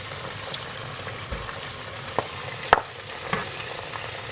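Pork belly fries in hot oil with a steady, soft sizzle and bubbling, broken by several small pops and clicks, the loudest near the middle, with no voices.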